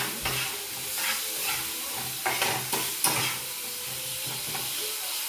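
Potato and soybean chunks fry and sizzle in a pan, with a steady hiss broken by repeated scraping stirs of a spatula, close and moderately loud, with no talking.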